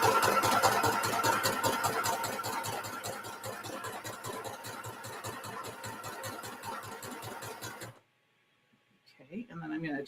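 A sewing machine stitches fabric with a steady, rapid mechanical chatter close by. It stops abruptly near the end, leaving near silence and then a few faint handling sounds.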